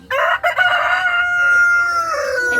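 A rooster crows close by and loudly in a drawn-out call, with a brief cluck or break early on, at a family home.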